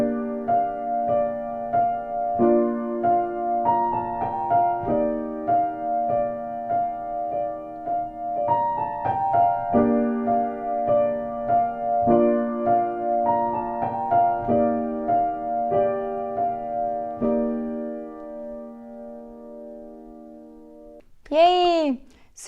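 Piano playing an easy beginner chord pattern with both hands, steady repeated chords and melody notes for about twenty seconds, followed by a short rising whistle-like sound at the end.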